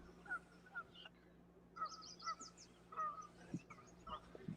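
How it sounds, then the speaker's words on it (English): Geese honking repeatedly at varying distances, some calls loud and near, others fainter, with a steady low hum of background noise. "I hear ducks. Lisa Z says supposed to be fresh catch. Yeah, here they're all over. Ducks or geese?"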